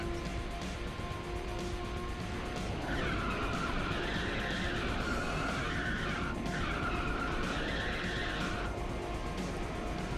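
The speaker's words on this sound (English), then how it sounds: "Drifting's pointless now." Tire squeal from a car drifting in Ridge Racer 6, two sustained screeching bursts over a steady loud engine roar and racing game noise.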